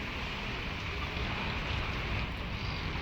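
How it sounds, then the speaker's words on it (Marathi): Heavy rain pours down steadily in Nalasopara, a dense, unbroken hiss with no voices or other distinct sounds. "नालासोपाऱ्यात मुसळधार पावसाला आता सुरुवात झाली आहे।"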